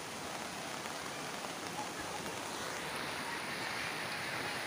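Typhoon floodwater nearly overflowing in Malanap, Puna, Española, Palawan, a steady broad rushing wash of water like heavy rain or surf, moderately loud and unbroken throughout.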